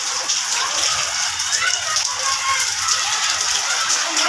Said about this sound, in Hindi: किचन में भी सारा ही वो उसका पानी गिर रहा है बारिश का